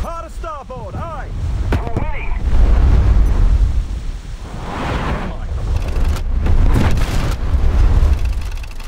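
In War Thunder Mobile, a submarine torpedo launches and detonates, giving a deep rumbling roar that swells, fades and swells again, with radio-style voices heard at the start.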